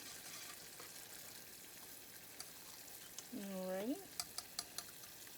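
Hot melted sugar for lollipops cooks on a stove, giving a faint, steady simmering hiss, briefly broken by a short spoken word and a few light clicks near the end.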